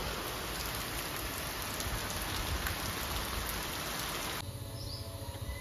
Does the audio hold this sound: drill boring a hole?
no